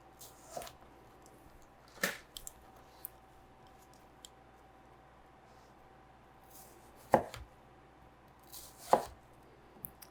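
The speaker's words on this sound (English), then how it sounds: "we can go ahead and cut everything one more time across to get ourselves some nice cubes" A knife chops produce into cubes on a cutting board, with a handful of sharp, separate thuds spaced irregularly over a quiet background.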